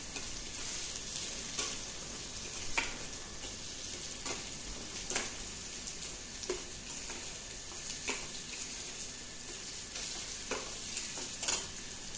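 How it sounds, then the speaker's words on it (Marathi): Chopped ginger sautéing in a hot pan, a steady soft sizzle and fry hiss throughout with occasional light clicks and stirring scrapes, close and moderately quiet, no voices. "त्यानंतर याच्यामध्ये हे आपण जे बारीक केलेले आल्याचे तुकडे आहेत ते टाकूया। याला चांगलं 1 मिनिटभर परतून घेऊया।"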